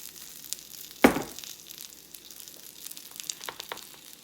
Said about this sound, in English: And now I'm going to add a little more oil back to my Blackstone.